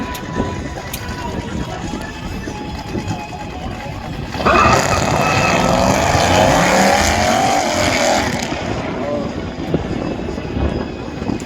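Drag race car on Mickey Thompson street tires at a spectator drag event, engine suddenly louder and bouncing off the rev limiter for about four seconds, a harsh buzzing roar over crowd noise and talk.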